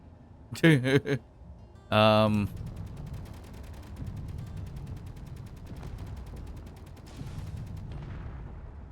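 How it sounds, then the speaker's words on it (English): Weapon and rocket fire in the video game Space Engineers: a few sharp blasts early on, then a long low rumbling roar with faint rapid ticking, while someone talks over it. "It sounded like I shot a rocket just now too."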